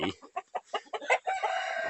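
Chickens and roosters on a poultry farm, a quick run of sharp clucks and squawks followed by a rooster's drawn-out crow, close and fairly quiet.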